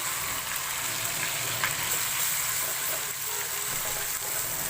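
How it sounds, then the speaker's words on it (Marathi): Whole spices, ginger-garlic paste and onion-cashew paste sizzle and crackle in hot oil for shahi paneer, a steady soft frying hiss with no voices. "तेल छान तापलेलं आहे. आता त्यामध्ये आपण हा खडा मसाला आधी घालून देतोय."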